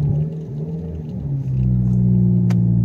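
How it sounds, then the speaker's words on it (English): A car engine freshly fitted with new spark plugs idles and then revs, with a low rumbling idle before a swelling, sustained rev that stays loud and close. "Give it a couple revs."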